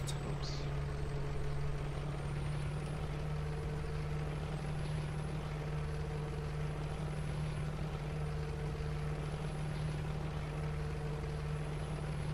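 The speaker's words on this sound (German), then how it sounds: "Der LKW ist voll betankt und wird schon wieder in die Startlöcher gebracht" A fully fuelled truck in Landwirtschafts-Simulator 2015 idles with a steady, low engine drone, faint and unchanging throughout, with no talk over it.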